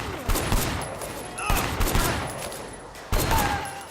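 Bursts of gunfire crackle and echo in a gang shootout in the video game Sleeping Dogs, loud volleys separated by short pauses, with no voices.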